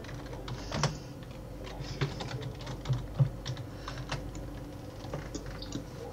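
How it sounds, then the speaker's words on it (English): Steady computer keyboard typing with irregular clicks and a few louder key strikes, close by and alone over a faint background hum. "Sorry if my typing's a bit slow"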